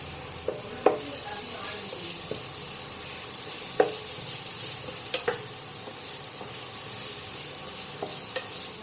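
Carrots tossed into a hot pan of frying beans give a steady, close sizzle, with a few sharp scrapes and clicks from a stirring spoon against the pan.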